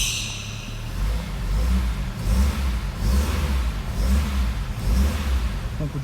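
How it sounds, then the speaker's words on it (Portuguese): A cold Ford Versailles Ghia or Fiat Marea HLX engine revs up and down repeatedly, close and loud, in several rhythmic bursts of throttle with a rumbling low tone and no talking. "Ronco de motor muito gostoso"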